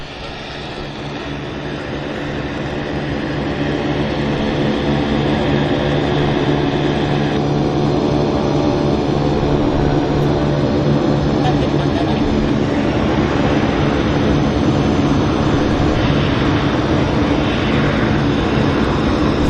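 A Falcon 50 business jet takes off from Vancouver airport, a loud, steady jet-engine roar that builds during the first seconds and then holds strong, heard from the field.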